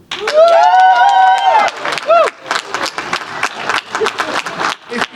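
Audience at a craft beer debate cheering and applauding, a loud whoop rising over clapping and crowd noise that carries on in uneven bursts.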